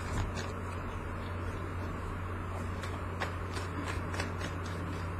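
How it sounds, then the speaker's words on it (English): Tarot cards shuffled by hand in a steady, continuous riffle of soft papery clicks, close and moderately quiet over a constant low background hum, with no talking. "Okay, one last shuffle."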